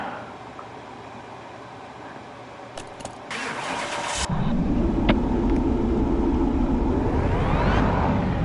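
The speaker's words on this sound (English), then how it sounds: "Listen to that supercharger." A supercharged Dodge Hellcat widebody cranks with a few clicks and a brief whir, then fires into a loud, close, steady rumbling idle that swells into a rising rev and a high supercharger whine.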